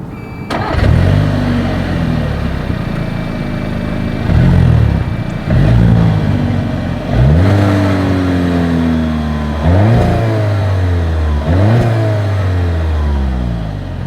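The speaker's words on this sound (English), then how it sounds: "As always, here is that exhaust clip." A 2025 Volkswagen Tiguan SUV exhaust revs repeatedly, each burst climbing in pitch and then falling back, with loud, throaty blips separated by short idle pauses.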